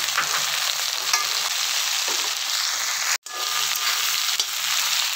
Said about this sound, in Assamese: কেৰাহীখনত তেলখিনি গৰম হোৱাৰ পিছত মই সজিনা আৰু পিঁয়াজ একেলগে দি ভাজি ল'ম